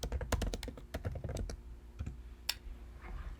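Someone types on a computer keyboard, fast bursts of crisp close keystroke clicks with brief pauses between, quiet in a still room.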